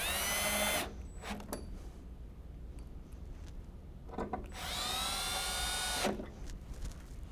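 Power drill driving screws into a commercial door strike, two loud bursts of whirring drill motor, each lasting about a second and separated by quieter handling noise and light tool clatter.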